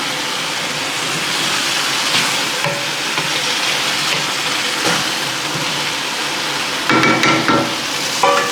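Chicken afritada with potatoes and carrots is stirred in a sizzling pan, a steady close frying hiss with scraping and clinking from the spoon, growing busier near the end.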